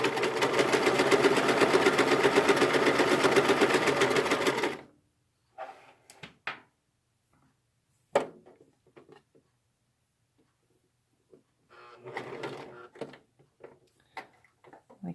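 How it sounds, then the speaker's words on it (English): A sewing machine stitches a shoulder seam on a t-shirt, a loud, close, fast rattling run for several seconds that stops abruptly, followed by mostly quiet handling sounds and brief clicks. "Using the presser foot as the edge, I'm just going to do a seam across the top of the shoulders."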